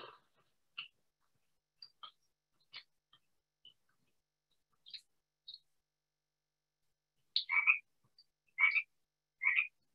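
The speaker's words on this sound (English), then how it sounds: "So here's the frogs." Recorded frog croaks played back outdoors at a puma kill site in the redwood forest of the Santa Cruz Mountains, faint scattered chirps at first, then louder clustered croaks toward the end, against near silence.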